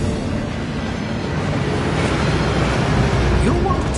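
Heavy steady rush of a waterfall inside a Gringotts vault, a continuous broadband roar that stays loud and unbroken throughout.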